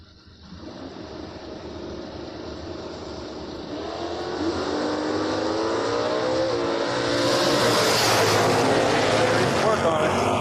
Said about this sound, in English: Yates be bringing that Ford Fairmount back for the next round